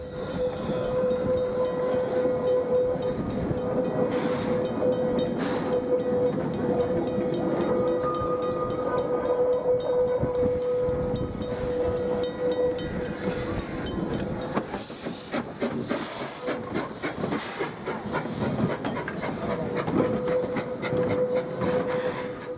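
D16, a Pleasant Point Railway steam locomotive, runs at Oamaru with steady loud hissing, a sustained whistle-like tone and rhythmic clickety-clack of wagons, growing busier and brighter in the final seconds.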